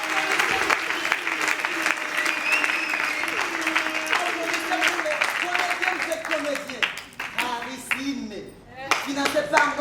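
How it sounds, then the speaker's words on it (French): Audience at a Burundian theatre and music show applauding the artists, dense clapping that fills the room, with voices and cheering mixed in and the applause thinning toward the end. "applaudissez pour les artistes"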